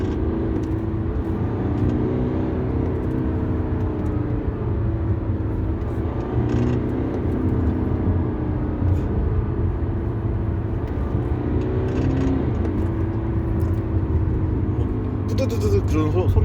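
A BMW 320d accelerating hard with a chronic rattling noise, giving a steady loud engine drone with low rumble and faint rattly texture throughout while someone talks over it.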